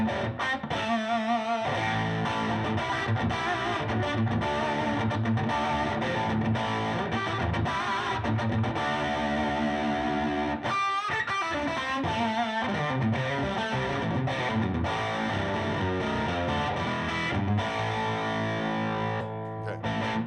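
Electric guitar through an amp's overdrive channel with the OTS boost engaged, a continuous stream of loud, gritty riffs and chords with choppy, percussive breaks, no talking.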